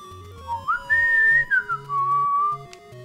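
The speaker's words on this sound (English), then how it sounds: "That's right. I can whistle." Person whistling a short melodic phrase during a Legend of Zelda play session, clear sliding notes over faint game music beeping underneath.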